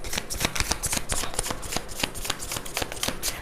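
Tarot cards are shuffled close up, with rapid crisp riffling and flicking repeated in quick bursts throughout, alone with no talk.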